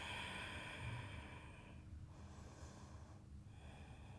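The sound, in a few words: breathing during yoga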